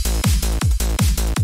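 Serum UK hardcore bass layered with a simple sine-wave sub, playing with a fast happy hardcore drum loop; thumping kicks with pitch drops cut between sustained buzzy bass notes in a quick steady pulse, loud and dense, no voices.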